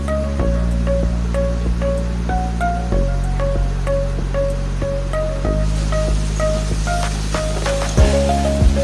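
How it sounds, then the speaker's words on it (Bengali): A rohu fish head fries in hot oil with a continuous broadband sizzle, heard steadily throughout beneath louder background music. "মাছটা আগে ভালো মতো ভেজে নিতে হবে।"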